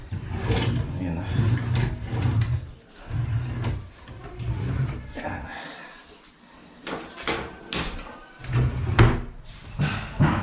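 Wooden drawer in a rowhouse under finishing carpentry is slid and bumped open and shut, several close knocks and scrapes mixed with ongoing conversation.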